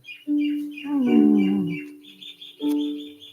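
Birds chirp and tweet outdoors on a sunny, breezy day, with repeated clear close calls and a brief burst of fuller song, no talk over them.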